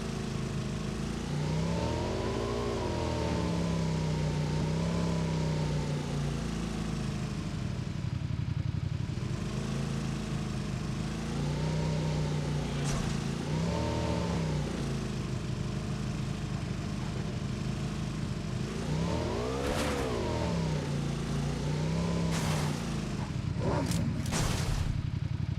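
Motorbike engine in PUBG Mobile, a steady mid-pitched drone running throughout with repeated revving swells and pitch rises, loud and continuous with no talk over it.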